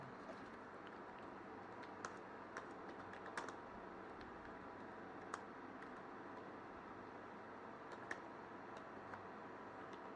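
Someone types on a computer keyboard in a quiet room, producing soft, irregular clicks and taps in short bursts with occasional sharper keystrokes and no talking.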